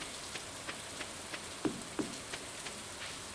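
Rain in the video game Stardew Valley falls as a soft, steady patter with regular light drop ticks about every third of a second, fairly quiet and without speech.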